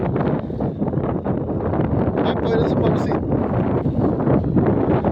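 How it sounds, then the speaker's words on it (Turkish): Steady wind buffets the microphone with a constant low roar as someone talks over it from inside a tractor in a field. "Hava rüzgarlı."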